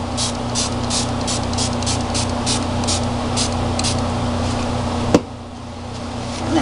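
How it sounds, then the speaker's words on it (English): Spray paint hisses steadily onto an altered picture frame in a continuous close-up spray, marked by faint rhythmic pulses and ending with a sharp click before the hiss trails off. "I'm going to spray this just a little bit more."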